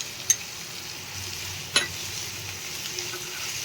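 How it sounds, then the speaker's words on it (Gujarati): Grated onion sautés with ginger and garlic in a pan, giving a soft, steady sizzle broken by two brief clinks of a utensil. "હવે આપણે આ ડુંગળીને એકદમ સરસ પાકવા દેવાની છે લાલ થાય ત્યાં સુધી"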